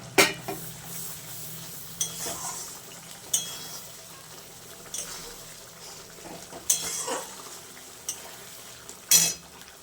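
Chicken sautés in a pot with turmeric under a soft sizzle. A spoon clanks and scrapes against the metal at regular intervals as it is stirred.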